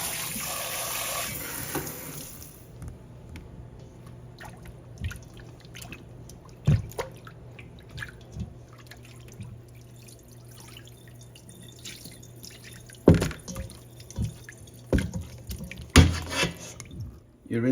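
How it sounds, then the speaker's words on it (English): Homemade butter is rinsed under a running tap, a steady stream of water with scattered drips and splashes close by, growing busier toward the end. "You rinse your butter,"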